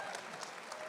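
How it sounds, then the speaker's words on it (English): A crowd at a gaming convention applauds as two guests walk onto the stage, a quiet, even wash of clapping with a few sharper claps and faint voices mixed in. "big round of applause for these guys as they come on up stage right now"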